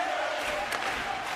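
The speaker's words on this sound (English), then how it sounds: "you can feel the energy in this crowd." Broadband arena crowd roar from a hockey video game, a steady dense wash of many voices holding at a constant level for the whole moment with no distinct words.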